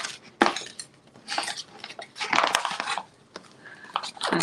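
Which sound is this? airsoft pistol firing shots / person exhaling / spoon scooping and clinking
spoon scooping and clinking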